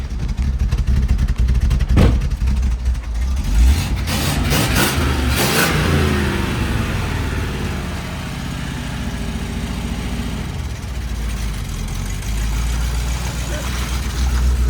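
A 1987 Pontiac Firebird that sat since 2001 revs hard on its first test drive, a loud engine roar rising and falling close by, with people talking over it.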